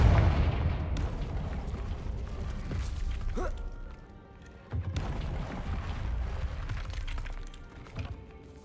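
A Confringo fire-blast spell in the Hogwarts Legacy game bursts in two strong booming hits, the second returning after a quieter stretch, each trailing off into a rumbling decay.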